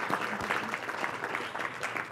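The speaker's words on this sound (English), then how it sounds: "let's give a round of applause for Dr. Wheatley." An audience at a lecture at a collaboration technology event applauds: a short, steady burst of dense clapping from many hands, moderately loud and filling the room.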